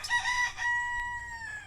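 Nearby chickens give a few drawn-out, tuneful calls and clucks in quick succession, fairly close and clear against a quiet background.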